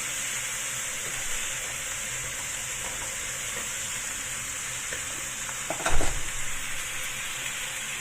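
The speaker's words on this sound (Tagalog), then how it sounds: "i-fry lang din natin yan hanggang sa maging brown ng kaunti yung ating chicken" Half a chicken frying in hot oil in a pan for a home chicken curry, a steady loud sizzle and crackle filling the whole stretch, with a brief scrape of stirring near the end and no voices.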